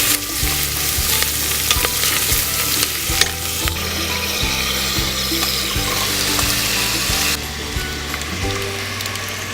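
Onions fry in a pan on a camping stove, a loud, close crackling sizzle with scraping stirs and a few sharp clinks of utensil against metal.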